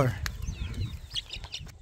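Chicks and a turkey are released one by one on a farm in Gabaldon, their high chirps and clucks scattered through close, steady human talk.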